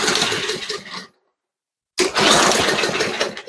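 A lawn mower engine with a carburetor fuel-flow problem runs loud and rough, cuts out abruptly into silence for about a second, then fires back up with a burst of popping and sputtering.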